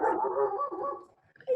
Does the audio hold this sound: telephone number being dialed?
no